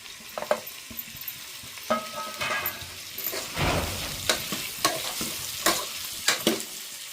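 Chilies and tomatoes fry in a pan for a village-style breakfast dish, with soft sizzling under repeated scraping and stirring strokes of a spoon against the pan.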